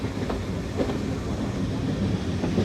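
A heritage steam railway train at the Dean Forest Railway creeps slowly into a station, wheels rumbling and clacking softly over the rails in a continuous low roll.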